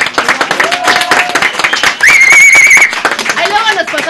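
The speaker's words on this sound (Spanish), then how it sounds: "un aplauso para ustedes" A room of students applauds, loud close handclaps mixed with cheering voices and a shrill whistle or squeal in the middle.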